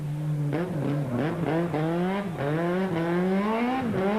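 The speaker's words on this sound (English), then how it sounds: "thrill the spectators with a well-executed handbrake turn" A Volkswagen rally car makes a handbrake turn on a rally special stage, its engine revving in rising and falling pulses while the tires squeal and skid, loud and close throughout.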